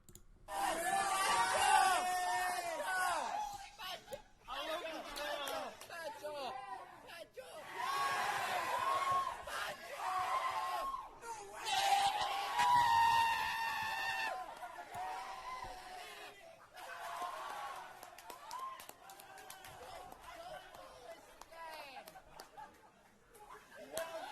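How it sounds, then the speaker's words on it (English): At the Super Smash Bros. Ultimate E3 Banjo-Kazooie DLC reveal, a crowd screams and cheers in loud surges, with shouting, laughter and chatter rising and falling in waves throughout. "you'll probably hear me screaming and coughing because I was right behind the guy who was recording this"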